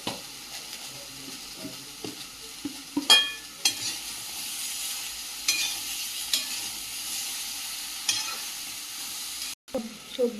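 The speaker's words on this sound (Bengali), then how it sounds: "সবজিটা ভালো করে ভেজে নিয়েছি" Vegetables with salt and turmeric frying in a pan give off a steady soft sizzle, with occasional scraping and stirring clicks from a utensil, close and fairly quiet.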